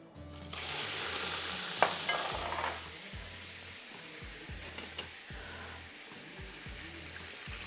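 Chicken fries in a pan with whole spices such as black cardamom for a vegetable and chicken pulao, giving a steady close sizzle broken by repeated rhythmic scraping stirs, with no talk.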